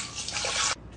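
Water from a tap pours steadily into a big pot of short ribs for about a second, then cuts off abruptly.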